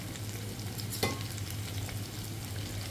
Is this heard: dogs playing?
no